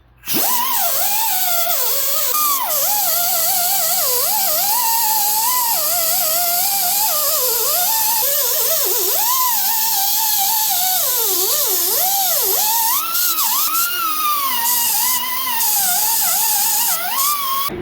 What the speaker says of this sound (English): I'm gonna clean out all the rust from the inside of both of these fellas here